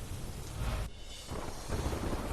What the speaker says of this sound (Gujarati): ધોધમાર વરસાદથી જળબંબાકારની સ્થિતિ સર્જાઈ.